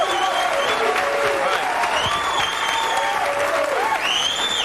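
A studio audience at the Jerry Springer talk show cheers and applauds in a loud, continuous roar, with whoops and shouts rising over the clapping throughout.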